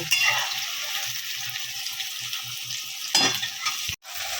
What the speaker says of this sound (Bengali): তিনটে বড় সাইজের পেঁয়াজ আমি তেলে দিয়ে দিলাম লাল করে একটু লাল লাল মতো হবে